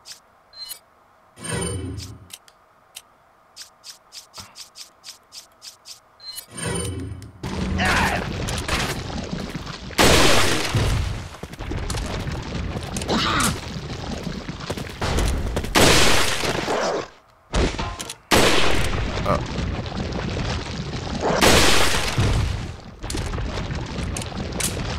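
Sniper rifle shots and loud gunfire bursts in Resident Evil 4 HD, with a quiet ticking stretch early on, then dense, heavy booming volleys and crashes that continue with brief pauses.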